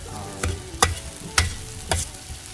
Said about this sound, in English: Cook for a minute or two, get it all nice and mixed in so the rice soaks up the